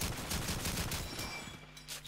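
MP44 assault rifle fire in Call of Duty 2, heard as dense, rapid gunshot bursts that run loud for about a second and a half and then ease off into quieter game ambience.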